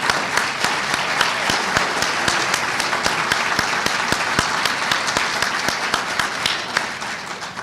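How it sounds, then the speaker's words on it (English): Sustained audience applause at an academic history awards ceremony, a dense wash of many hands clapping steadily throughout, fairly loud and continuous, tapering only slightly toward the end. "let's give her an extra round of applause"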